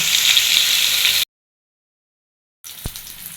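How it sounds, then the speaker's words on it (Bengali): Mango pieces frying in oil, a bright, steady sizzle that cuts out abruptly to silence, then resumes with a soft clink and continued crackling. "তেলের সাথে ভেজে নিব"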